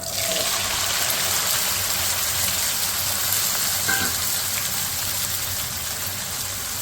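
Chickpea curry mixture with onion and tomato frying in about half a cup of oil in a kadhai, a strong steady sizzle close up with a faint clink partway through.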